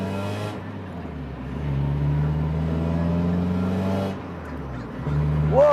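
A 1997 project hatchback's engine hums steadily, then its revs climb and hold before dropping back, with a brief second rise at the end; the sound is close and fairly loud, with no talking.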